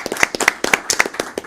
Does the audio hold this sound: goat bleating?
no